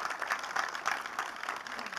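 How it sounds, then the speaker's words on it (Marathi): Audience applause at a trailer launch for the Marathi film Punha Shivajiraje Bhosale: dense, steady clapping from a crowd that holds at an even level for the whole moment, with no voices standing out. "जोरदार टाळ्या झाल्या पाहिजेत या ट्रेलरसाठी"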